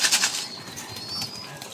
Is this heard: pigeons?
yes